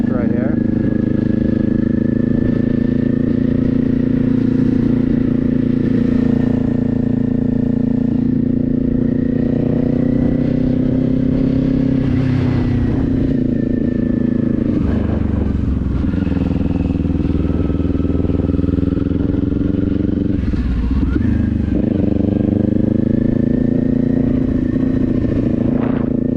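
A motorcycle rides steadily through cold weather on a small path, its engine droning loud and continuous with occasional rises and dips in revs, while a voice talks over the ride.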